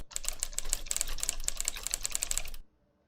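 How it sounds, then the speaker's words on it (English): Rapid mechanical typewriter keystroke sound effects from a writing app, a dense, steady clatter of sharp clicks that runs for over two seconds, then stops abruptly into silence. "that will let you enjoy mechanical typewriting sounds while you are creating content"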